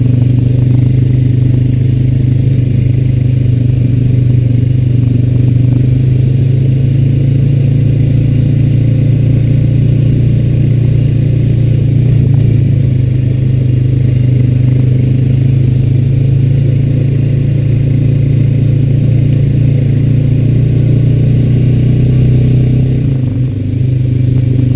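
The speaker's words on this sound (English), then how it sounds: "taking a ride down the sawdust path now." A Honda Rancher 420AT ATV rolls down a sawdust path outdoors, its engine droning steadily and loudly at close range for the whole stretch, with a low rumbling hum and light clatter and no voices.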